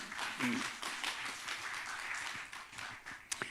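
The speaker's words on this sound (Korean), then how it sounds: "이 세 분들 위해서 박수 한번 해주세요" Church congregation applauding during a sermon, a soft spread of clapping from many hands, faint and distant, with a voice murmuring underneath and a sharp tap near the end.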